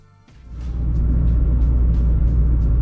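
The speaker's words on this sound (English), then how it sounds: "we are now driving the Civic with the new Momo steering wheel on it" A Honda Civic fitted with a new Momo steering wheel drives along, its engine and road rumble rising from a quiet start into a steady, loud low drone heard from inside the cabin, with faint higher whooshes passing.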